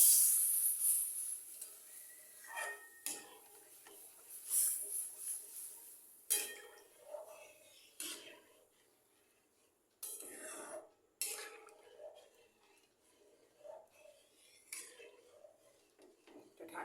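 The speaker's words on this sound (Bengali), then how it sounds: "জল দিয়ে এটাকে ভালো করে নাড়াবো" Semolina stirred with water in a metal pot, with irregular scraping and clinking spoon strokes against the pot, close, separated by quiet gaps, with no one speaking.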